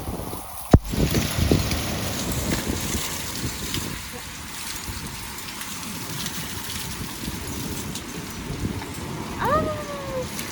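Steady heavy downpour with hail roars throughout with gusting wind, a sharp knock near the start, and a voice talking over the noise.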